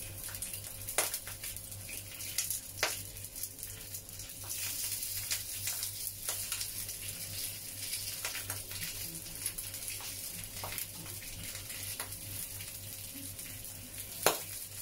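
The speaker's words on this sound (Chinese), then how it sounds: "用個慢火慢慢煎下佢，因為咧猛火就會燶" Soft, continuous sizzling of pork belly, previously braised in a lo-shui master stock, pan-fried slowly over low heat, with faint crackles and occasional sharper pops scattered throughout.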